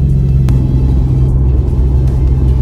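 Infiniti Q50 running with a steady, loud engine rumble as it shifts down gear by itself, the low drone holding constant with no talking.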